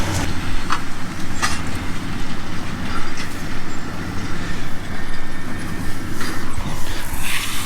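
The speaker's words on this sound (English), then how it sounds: "the rake and baler have just showed up" Farm rake and baler arriving for first-cut silage produce a heavy, steady mechanical rumble with repeated rhythmic clattering and a few sharp knocks, fairly loud and close, with no speech.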